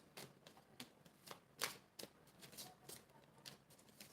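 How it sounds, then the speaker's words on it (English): Tarot cards shuffled by hand, a series of crisp riffling snaps and soft slides coming in uneven bursts, close and fairly quiet with no talk. "I'm gonna shuffle."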